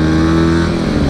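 A 2013 Honda CBR 150R motorcycle engine drones steadily and loud throughout a short stretch of a test ride in Indonesia, with strong harmonic hum and a slight rise in pitch suggesting acceleration.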